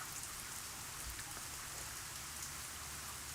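Steady, even rain falls as a dense continuous hiss with no breaks or distinct drops, fairly loud and unaccompanied by any voices.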